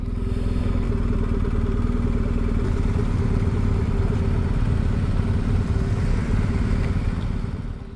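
A motorcycle on a foggy, rainy mountain road in Norway near the Lysefjord, with its engine droning steadily and loudly close by and a constant rumble and rattle of wind and road noise that fades right at the end.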